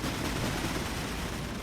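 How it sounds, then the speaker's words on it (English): Gunfire from units in the real-time strategy game WARNO, a dense continuous burst of rapid shots and rumbling fire filling the whole short stretch at steady loudness, with no voices. "And they're finally able to open up fire here."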